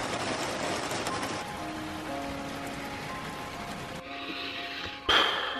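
Rain falls in a dense, steady hiss, with faint tonal hums running through it. A brief sharp knock lands near the end, and no one speaks.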